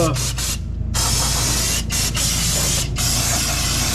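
Brake cleaner hissing from an aerosol can in a truck garage: loud, close bursts of spray with a few short gaps between them.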